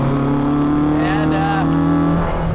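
Honda engine in a classic Mini pulling hard under acceleration from inside the car, a loud steady droning hum with rising engine tones, close and continuous, with a voice speaking over it.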